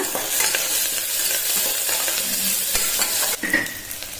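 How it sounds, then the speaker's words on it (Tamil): Sliced onions and crushed ginger fry in a pan for bottle gourd ginger rice with a loud, continuous sizzle and occasional stirring scrapes, and there is no talking. "வெங்காயம் நல்லா வதங்கிடுதுங்க."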